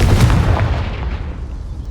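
A Confringo blast spell in Hogwarts Legacy, one loud close booming explosion that hits at once and rumbles away over about two seconds.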